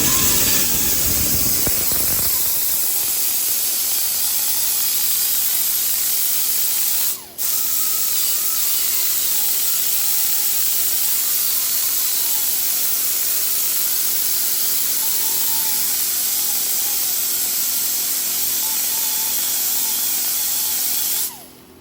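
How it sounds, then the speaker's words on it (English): Grinder smoothing a 1971-76 Chevrolet Caprice or Impala door hinge: a loud, continuous high-pitched grinding hiss lasting the whole stretch, close up, with one brief break in the middle and a stop at the end. "This one here is a little bit easier just to grind it all smooth."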